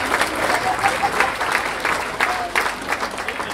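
Audience applauding at the Ballymoney Youth Academy award show, sustained crowd clapping at an even, fairly loud level, with faint voices mixed in.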